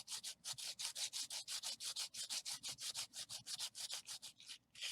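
Steady, rapid back-and-forth strokes of very coarse sandpaper rasping across wood while adding fences, about two dozen close, loud passes in an even rhythm with no talking.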